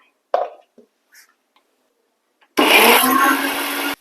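A kitchen grinder coarsely crushes a grated coconut mixture with turmeric powder and cumin for a stir-fry, a loud whirring motor burst of just over a second after a few soft handling knocks.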